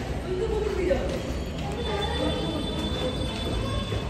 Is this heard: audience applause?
no